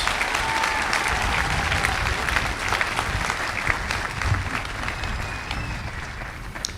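An audience at a 2013 high school commencement gives a sustained round of applause after student speeches, thick and continuous clapping from a large crowd, fairly close.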